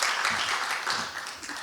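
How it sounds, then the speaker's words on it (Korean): Audience applause for a newspaper journalist introduced as a speaker at an academic conference on East Asia, a brief dense burst of clapping throughout. "큰 박수 부탁드립니다."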